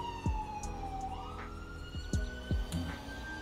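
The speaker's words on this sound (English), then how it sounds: "Where's this ambulance going to come from? I can hear it." A wailing ambulance siren sweeps up and down in GTA 5 with the LSPDFR police mod, fairly distant, with occasional thumps and clicks in the foreground.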